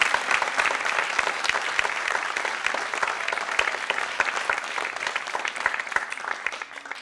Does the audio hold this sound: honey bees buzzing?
no